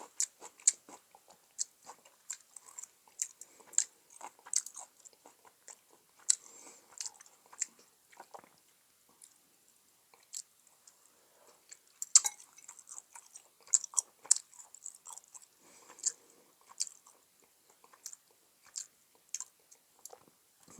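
Crisp, close chewing and crunching of kimchi and radish, irregular wet bites and munches repeating throughout at a quiet level with no talk.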